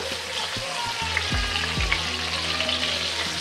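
Eggplant frying in oil gives a continuous crackling sizzle close by, with a few low knocks and clatters early on as pieces are shifted in the pan, and no voices.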